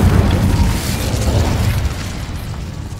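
An Incendio fire spell in the Hogwarts Legacy video game blasts with a loud, deep whooshing boom that opens strongly and then rumbles and fades over a few seconds.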